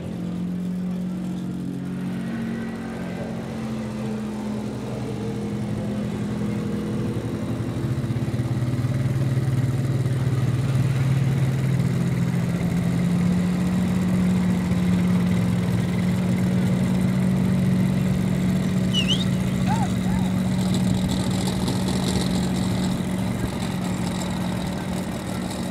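A Ford biturbo drag racing car idles at pre-stage on a drag strip, a loud, steady low engine rumble that swells slightly midway and holds throughout.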